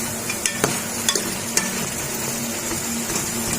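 Dumba karahi cooks in an iron wok just after large tomatoes go in. A loud, continuous sizzle runs under sharp metallic clicks and scrapes from a stirring utensil, with no talking.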